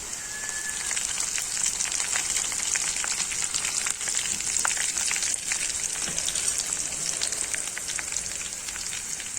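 A curry leaf and dried red chilli tempering sizzles in hot oil as it is poured into cowpea curry, a steady, dense crackling hiss that carries close and loud throughout with no talking.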